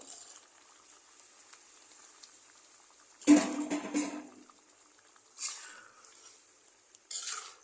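Beef tripe is cooking in a fried spice masala: a faint, quiet sizzle with a sudden loud clatter of stirring or the tripe going in, followed by two shorter stirring scrapes.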